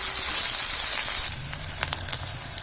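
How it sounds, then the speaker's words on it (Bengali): Boiled potatoes fry in a pan, giving a steady bright sizzle with soft crackles that thins out partway through, close and alone without talk. "আলুটা সেদ্ধ করা আছে সেগুলো একটু ভেজে নিচ্ছি"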